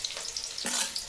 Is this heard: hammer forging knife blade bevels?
no